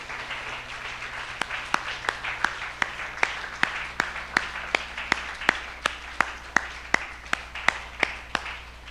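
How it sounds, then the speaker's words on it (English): Church congregation applauding after a sermon, scattered hand claps with a few sharp, regular claps standing out near the microphone, moderately quiet and steady throughout. "Let's put our hands together and rousing round of applause for our sermon today and Dr. Michael Balcom."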